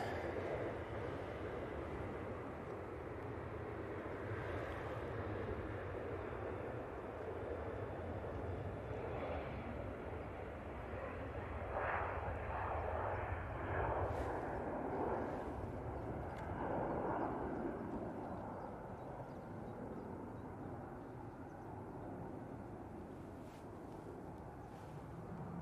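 Ryanair airliner departing, a soft, distant jet rumble that swells slightly and fades, with a few faint nearby clicks and knocks.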